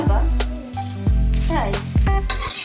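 Paratha flatbread frying in a pan, a steady sizzle running through the whole short stretch, close and fairly loud, with a few clinks and scrapes from the cookware on top.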